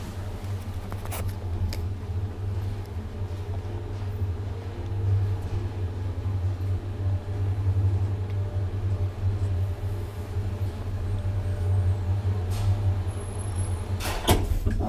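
A 1973 Valmet-Schlieren traction elevator rides steadily with a continuous low hum and rumble inside the car, with faint rattles and a few brief clicks near the end of the ride.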